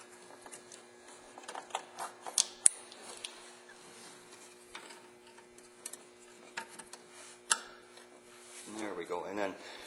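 Light pigtail connectors on a Ford heavy duty truck snapping into their sockets, giving several sharp, close clicks spread through the stretch, with some handling noise and a steady faint hum underneath.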